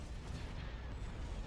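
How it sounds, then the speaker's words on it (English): Laser cannons fire in the Star Wars space strategy game Thrawn's Revenge, a dense, continuous roar of blasts and booms filling the space without clear gaps. "Charge laser cannons."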